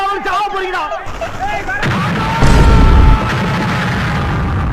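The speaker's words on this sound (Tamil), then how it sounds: "அண்ணே வெடி வைக்க போறா யாரும் வராதீங்க" A loud firecracker blast bursts into a crackling roar after a few seconds of voices, the noise lingering and then tapering off.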